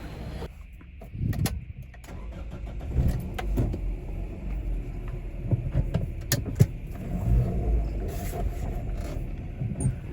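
A car that has stood overnight sits idling to warm up, with a low steady engine rumble and scattered clicks and knocks nearby.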